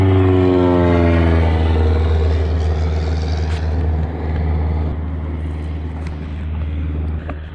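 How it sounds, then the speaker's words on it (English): A loud, low engine roar of a plane passing overhead on the Mattawa River, starting strong and slowly fading as it moves away. "Nice loud plane out here,"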